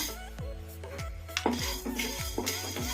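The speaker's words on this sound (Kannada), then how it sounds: "ಈಗ ಈ ಥರ ಕಲಿಸ್ಕೊಂತ ಫ್ರೈ ಮಾಡ್ಕೊಳ್ಳೋಣ" A spoon stirs black pepper and coriander seeds frying in a pan for mint rasam, scraping and clinking against the metal in a steady rhythm of repeated strokes, close and clear with no talk.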